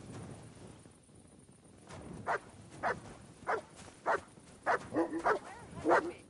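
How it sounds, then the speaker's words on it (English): Several dog barks from an in-game companion in Kingdom Come Deliverance 2 ring out at a steady pace of roughly one every half second, moderately close, over a low ambient background bed with no talk. "That's our dog barking."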